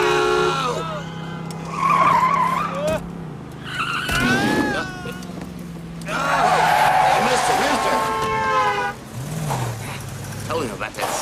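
A race car skids on a figure-8 track at night, tires squealing in bursts under an engine drone, with someone shouting and talking loudly over the action.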